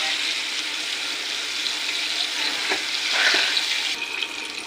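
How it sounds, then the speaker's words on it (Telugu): KFC-style chicken leg pieces frying in oil over a slow flame, giving a steady, even sizzle that continues for the whole clip at moderate loudness, with faint pops and crackles. "లెగ్ పీస్ చూడండి మంచిగా ఇట్లా ఫ్రై చేసుకోవాలండి. స్లో ఫ్లేమ్ మీద ఫ్రై చేసుకోవాలి."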